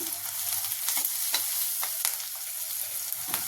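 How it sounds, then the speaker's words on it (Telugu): Onions and green chillies frying in a pan as curry leaves and turmeric are stirred in, a steady sizzle with scraping stir strokes, close and alone. "లైట్గా ఫ్రై అయ్యాక ఒక కొంచెం కరివేపాకు కొంచెం పసుపు వేసి కలుపుకొని"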